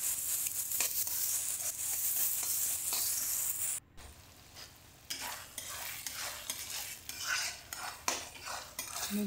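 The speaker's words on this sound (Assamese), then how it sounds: "বিলাহীখিনি যেনে তলত লাগি নধৰে, বাৰে বাৰে লাৰি থাকিব লাগিব কম জুইত।" Tomatoes frying in a pan on low heat for an Assamese fish curry, with steady sizzling and repeated scrapes and clinks of a spoon stirring against the pan, close and continuous apart from one brief cut.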